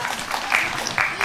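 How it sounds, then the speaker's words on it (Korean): Audience clapping at a talk concert on urban farming at a 2020 agricultural fair, a short burst of applause with a voice over it. "큰 박수 부탁드립니다"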